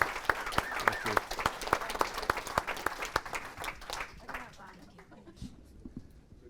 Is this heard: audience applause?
yes